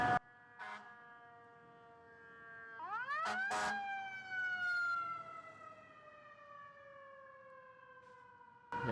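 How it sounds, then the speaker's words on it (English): A loud fire truck siren wails and sweeps upward in pitch, then holds a long, slowly falling tone as it passes close by on a street. "yep, it's a fire truck coming through"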